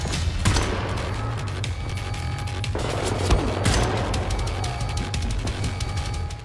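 Rapid automatic gunfire from a Wolfenstein: The New Order firefight, loud and sustained bursts of shots with brief booms layered over a dense continuous clatter, no voice on top.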